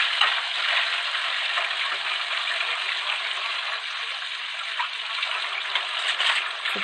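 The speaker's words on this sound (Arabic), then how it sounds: "وشوشو بس ايه بتشطب الحوض اهي" Steady hissing scrubbing and running water in a kitchen sink being cleaned, close and continuous, with small clinks of dishes now and then.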